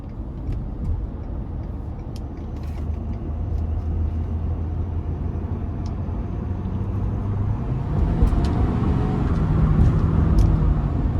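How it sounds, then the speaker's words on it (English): A 2022 Ford F-350 Limited dually with the 6.7-litre turbo diesel accelerating onto an interstate, heard from inside as a steady low engine and road drone that gradually grows louder, with a few faint ticks. "I'm gonna give it a little bit of throttle getting on the interstate here"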